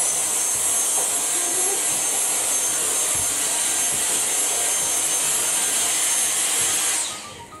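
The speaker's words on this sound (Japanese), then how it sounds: "掃除機に驚かなくなったね。" A household vacuum cleaner runs with a loud, steady whining drone for several seconds, then drops off sharply at the very end, with no voices over it.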